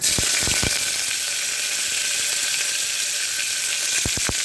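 Prawn masala frying in a pan as chopped onions go in, giving a steady, loud sizzle throughout with a few sharp clicks of a utensil near the start and end.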